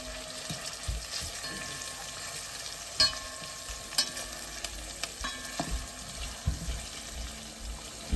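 Goat meat for Caribbean curry goat browns in a pot with a crackling sizzle, broken by several sharp clinks and knocks of a utensil against the pot.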